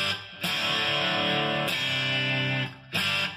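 Electric guitar through a boost pedal on the treble setting with a slight touch of gain, three bright strummed chords, each sustained before the next, close and clean-edged with no voices.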